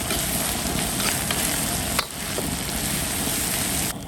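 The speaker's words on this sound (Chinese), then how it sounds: "好，把它炒香了" Chili and Sichuan peppercorns sizzle steadily in a hot wok, a dense continuous frying hiss with soft stirring scrapes and no voices.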